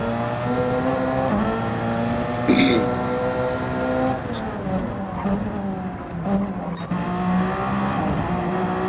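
Race car in Gran Turismo 7 spinning on the Daytona road course, a loud sustained engine drone that dips and bends in pitch as the car loses grip, with brief tire scrubs and short clicks over the top.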